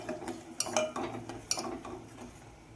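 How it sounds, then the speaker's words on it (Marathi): A spoon stirs reduced milk kheer with cardamom in a metal pot, giving faint, irregular clinks and scrapes against the pot with no talking. "हे थोडंसं आपण आता ढवळून घेणार आहोत."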